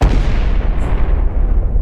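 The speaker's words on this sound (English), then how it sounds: "A massive explosion tears through the air." A massive explosion as a nuclear reactor unit's roof blows apart, heard as a loud, continuous low rumbling roar that holds steady without a distinct onset, dense and booming throughout.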